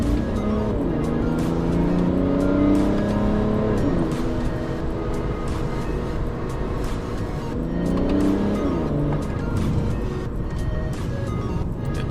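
A BMW E90 335d diesel car engine revs and accelerates steadily on a highway, its pitch climbing, dropping as it shifts, then climbing again, loud and close with no talking.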